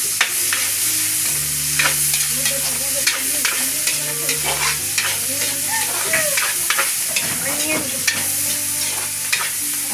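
An onion frying in a pan during preparations for a mountain fiesta and birthday cooking gives a constant loud sizzle, broken by frequent spatula scrapes and stirring knocks, with a low hum beneath and no speech.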